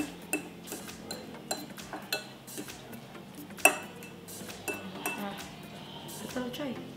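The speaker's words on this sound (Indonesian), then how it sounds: "Kita haluskan ini tapenya." Fermented cassava (tape) being mashed in a bowl, giving a run of irregular clinks and taps of a utensil against the bowl, close and fairly quiet, with one sharper knock midway.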